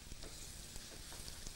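Small portions of food, placed a few at a time and flattened, sizzle steadily in a hot frying pan in a Greek home kitchen, a continuous crackling hiss with no talk over it.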